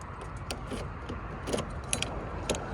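Light metallic jingling of keys in short bursts while unlocking a 2003 Chevy Impala, fairly close, with faint clicks and rustling in a quiet background.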